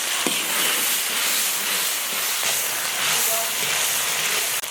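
Garlic cloves frying in hot oil in a wok before chilies, scallions and bean paste go in, giving a dense, steady sizzle and hiss that fills the whole stretch up close, with faint clatter.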